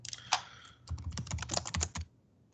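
Typing on a computer keyboard, with a cluster of rapid clicky keystrokes followed by a brief pause and then a busier, louder burst of keys, close and clear with no talking.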